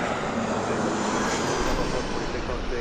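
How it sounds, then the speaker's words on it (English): A Delta Airlines Airbus A321 arrives at Las Vegas Harry Reid airport, its engines a steady broad roar throughout, moderately loud, with a voice talking over it. "we have a Delta Airlines coming in right now"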